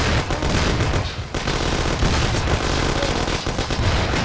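Sustained rapid gunfire in a Mafia 1 shootout, loud overlapping automatic bursts and shots packed together without pause across the whole stretch.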